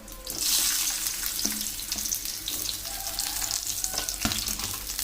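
Eggplant pieces fry in oil in a kadai, giving a steady hissing sizzle with a sharp burst near the start, then continuing evenly alone with occasional soft clinks.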